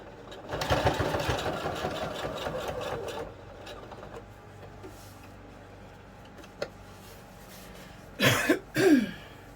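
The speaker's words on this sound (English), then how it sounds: "I'm going to top stitch also at about 1/4 of an inch, but bumping up my stitch length to my max" A sewing machine top-stitches a bag at a long stitch length, a rapid whirring run lasting a few seconds, followed by quieter pauses, a brief tap and two short coughs or throat-clearing sounds.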